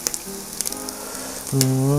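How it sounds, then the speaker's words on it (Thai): Close-up sizzling of pork belly grilling on a charcoal Thai barbecue pan, with crackles and pops, over which steady tones enter and rise in pitch about halfway through. "สามชั้นย่างเกลียมๆกรอบๆเลยครับ"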